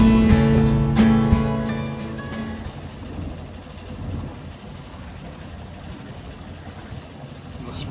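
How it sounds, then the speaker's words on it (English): A sailboat's inboard engine idles on a lake while cooling water drawn from the lake splashes steadily out of the exhaust, a low continuous rumble and wash after a brief voice at the start. "The splashing that you might hear is so the engine actually draws water from the lake to cool itself in part"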